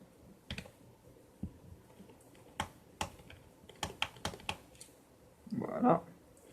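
A screwdriver backs out the screws holding a laptop keyboard, giving scattered sharp clicks and small metallic ticks at close range, with a louder rattling scrape near the end.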